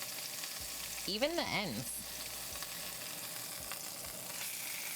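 A rack of pork sears in a hot pan with a soft continuous sizzle while someone talks over it, a short burst of spitting sizzle as the meat is pressed and turned.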